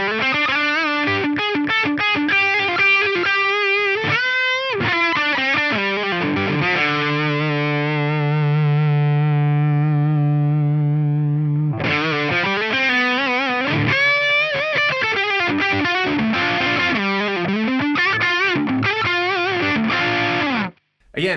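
A guitar plays through a Yamaha GEP 50 effects unit on its Sweet Sustain preset, giving loud, distorted, sustained notes with long held tones that ring out and then give way to quicker picked phrases, cutting off abruptly at the end.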